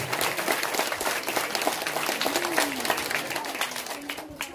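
Audience applauds loudly at a community kit-donation event in Dabou, a continuous dense patter of many hands clapping with a voice briefly heard beneath.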